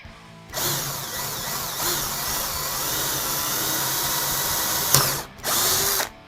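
Drill boring a 3 mm hole through metal for a homemade fishing lure, a close, loud whirring bite that runs continuously, stops briefly near the end, then resumes.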